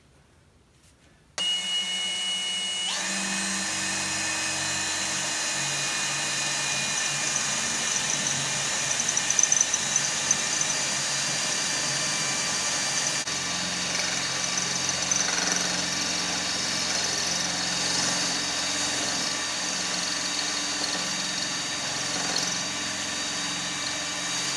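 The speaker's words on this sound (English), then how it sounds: "if you're drilling a hole in something and you got to push up on it" A power drill fitted with a big bit bores a hole, pushed upward into a truck part, whining steadily for over twenty seconds with a continuous motor drone that rises slightly in intensity partway through.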